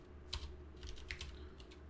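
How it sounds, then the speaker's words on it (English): Faint, quick keystrokes on a computer keyboard during coding, a short scattered run of soft taps over a quiet room hiss. "I can't type and write at the same time."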